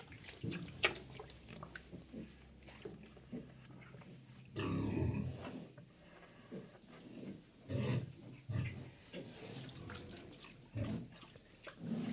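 Quiet grunts and snorts from a sow come in short bursts, with soft rustling and shuffling sounds between them.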